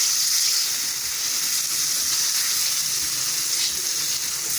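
Chicken cooking in oil in a pan on a low flame gives off a steady, even hiss of frying that stays close and continuous throughout, with no voices.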